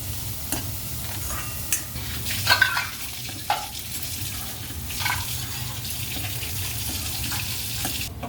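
Onion hits a pan of butter and oil already holding garlic, green chilli and coriander paste, giving a steady close-up sizzle broken by a few knocks and scrapes of stirring.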